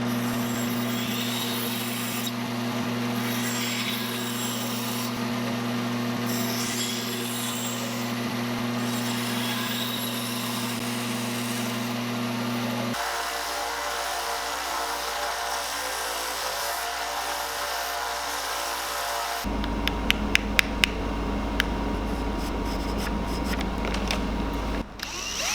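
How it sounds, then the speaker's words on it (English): Power-tool work carving chamfer lines into a small wooden fishing lure, first a steady droning hum, then a lower grinding tone, ending in louder rough whirring with sharp clicks, continuous and close. "Delicate process with a little bait like this, but we got all the chamfer lines on it"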